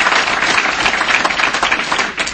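A dense round of applause from an audience for Mike Bishop at a gathering about support for the automotive industry, loud, steady and continuous clapping filling the whole moment without any speech over it.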